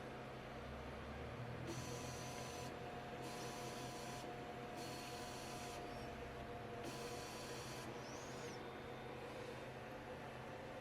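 3D printer running with a 0.6 mm nozzle while printing an Orbiter part, a faint steady hiss and hum of motors with soft periodic higher-pitched stepper whines.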